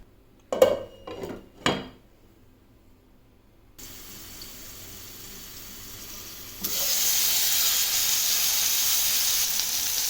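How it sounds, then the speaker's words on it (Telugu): Utensils clatter briefly near the start, then after a pause a soft hiss rises into a loud, steady sizzle as cut ridge gourd pieces fry in hot oil in a pan. "కట్ చేసుకున్న బీరకాయ ముక్కలు తీసుకుందాం. వీటిని ఫ్రై చేసుకోవాలి."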